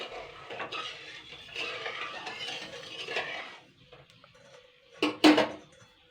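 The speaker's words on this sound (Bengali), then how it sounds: "এবারে আমি এটাকে ভালো করে কিন্তু চিনির শিরাটা আগে বানিয়ে নেবো জাল করে" Sugar syrup cooking in a pan for Karachi halwa, a metal spoon stirring and scraping steadily for several seconds, then a couple of sharper clinks of utensil against the pan near the end, with no talking.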